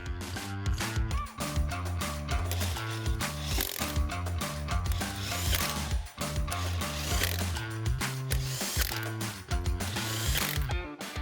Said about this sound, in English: we'll reinstall our factory lug nuts for now